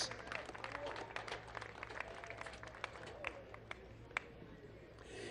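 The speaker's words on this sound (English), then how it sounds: "Let's hear a big round of applause for Francis Seldorf and Andrew Davis." Crowd at a Pirelli GT4 America race weekend at Sonoma applauding podium finishers, scattered claps rising to a steady round of applause over a low hum, fairly faint and distant.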